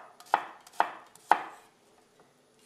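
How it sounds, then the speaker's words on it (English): A kitchen knife slices finely through an onion on a cutting board, three crisp close chops spaced evenly, then quieter faint taps trailing off. "as I slice through there, this beautiful cubes of onion just fall off"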